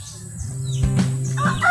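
A rooster crows once on a garden farm, a short rising call close by, with faint bird chirps behind it.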